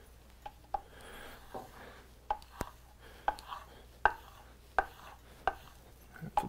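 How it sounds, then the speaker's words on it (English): A knife edge is worked on a strop with a series of sharp, irregular taps and light strokes, fairly quiet and close up with no talking. "Then onto the strop."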